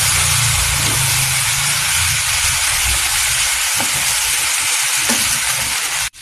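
French beans with browned, crispy pork sizzle loudly and steadily in a frying pan while being stirred, with occasional scraping and clinking from the mixing and no talking.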